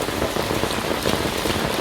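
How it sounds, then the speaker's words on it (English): Heavy rain pours down on a street in Valencia as a dense, steady hiss of drops striking the pavement, loud and unbroken throughout. "the rain is hammering down"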